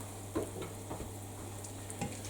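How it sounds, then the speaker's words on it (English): Sausage frying in vegetable oil in a pan, a steady close sizzle with a few sharp stirring scrapes and pops, no one talking. "that veg oil will start to pull the flavor of the sausage as it cooks"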